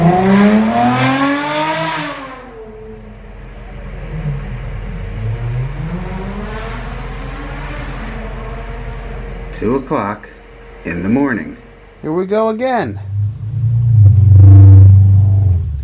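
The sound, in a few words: bus engine rumbling outside the house at night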